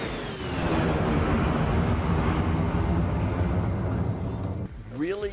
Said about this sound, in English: Really good flyby sounds on this airplane.